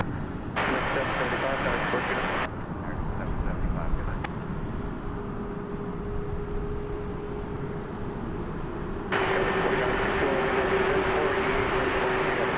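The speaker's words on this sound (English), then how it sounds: "It's an Ameriflight Beech C-99 airliner cargo." An Ameriflight Beech C-99 cargo plane at DFW airport at night gives a steady, broad engine roar that swells and holds throughout, while someone talks over it.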